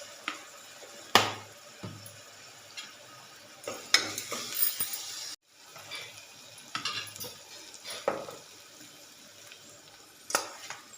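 Ginger paste with salt and turmeric frying in a pan for gongura mutton: a faint, close sizzle broken by intermittent stirring clinks and scrapes, with no talking.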